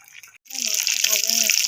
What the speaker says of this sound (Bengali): কচুটা সেদ্ধ হয়ে গেছে, আমি এবার এটা ঢেলে নেব।